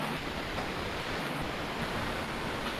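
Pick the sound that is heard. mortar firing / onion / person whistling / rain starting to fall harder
rain starting to fall harder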